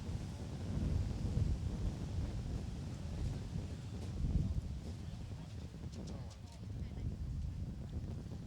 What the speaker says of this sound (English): we get a gust of wind